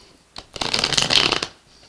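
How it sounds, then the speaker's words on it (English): Tarot cards shuffled by hand: one quick riffle of about a second that rises and fades, close and crisp, with no talking. "Last shuffle."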